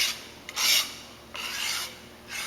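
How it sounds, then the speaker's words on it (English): An ink scraper drags across a screen printing pallet, lifting dried ink with close, rasping scrapes in two or three passes, each a second or so long, with no talk. "I use one of my ink scrapers just to gently pull some of this off"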